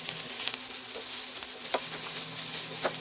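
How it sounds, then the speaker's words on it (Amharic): Red onion frying in four to five spoonfuls of oil for a quick Ethiopian butternut squash dish, giving a quiet, steady sizzle with a few soft stirring clicks and no talking. "አንድ 4-5 ማንኪያ የሾርባ ማንኪያ የሚያክል ዘይት ጨመርኩና ቀይ ሽንኩርት ነው የተጠቀምኩት"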